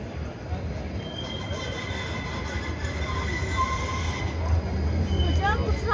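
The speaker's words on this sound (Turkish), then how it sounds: "Aynı zamanda tramvay durağına geldik." A tram pulling into an evening tram stop in Basel, its wheels giving a thin steady squeal and rumble that grows slightly louder toward the end, with voices nearby.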